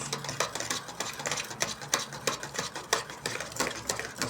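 A fast-setting stone powder casting mixture being stirred quickly in a container, producing a rapid, regular series of scraping and clicking strokes close by, repeating roughly every fraction of a second without pause.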